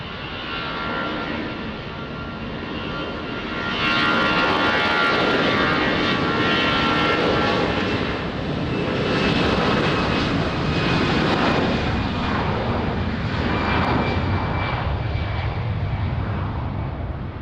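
Aircraft taking off at Lisbon Airport, a loud sustained engine roar that swells and holds steady throughout, rumbling continuously with no talk over it.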